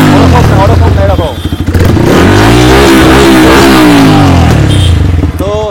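Close, loud revving from a 2019 Yamaha R15 with an aftermarket Akrapovic exhaust, the engine swelling and dropping through several throttle blips, with a raspy, clattering tone.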